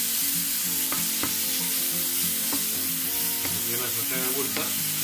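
Pork tenderloin medallions fry in a small pan, a steady close sizzle running throughout with a few sharp clicks and scrapes of a utensil; a low music-like hum sits underneath.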